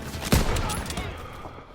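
Gunfire in the World War II shooter Call of Duty WW2, a sharp loud shot followed by a quick burst of rattling fire and fading echoes, with battlefield noise behind.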